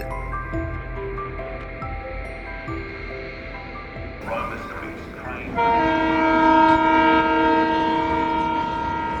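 A passenger train departing Howrah at night rumbles along the rails while long horn blasts sound, the horn growing louder and steadier in the second half.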